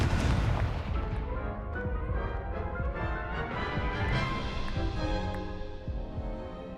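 Confringo and Incendio spell blasts in a Harry Potter video game, a dense run of booming, crackling bursts that stay loud and busy throughout with no talking.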